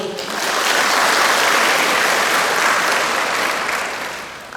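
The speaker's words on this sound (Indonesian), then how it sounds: "Mari kita aplaus untuk beliau." An audience at a university event with the deputy governor of East Nusa Tenggara applauds, a dense, loud burst of clapping that swells and then slowly fades over several seconds.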